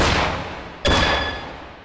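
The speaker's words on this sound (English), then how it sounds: "they just keep popping up and I keep shooting" Single sharp simulated gunshot from a dry-fire shooting game, loud and close against a steady background hiss, with a brief ringing tone after the crack and no talking.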